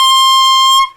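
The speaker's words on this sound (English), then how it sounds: "what we do is we blow really hard through that little reed, and that's what makes a sound." A clarinet mouthpiece with its reed held by a ligature, blown hard on its own without the instrument body, gives one loud, piercing, buzzy squeal held for just under a second before cutting off.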